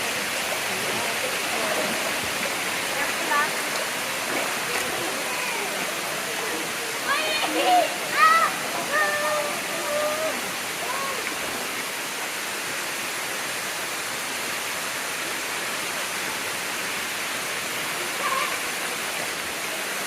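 Kaparkan Falls, a terraced waterfall in Abra, Philippines, gives a steady broad rush of falling water throughout, with faint voices briefly rising above the roar.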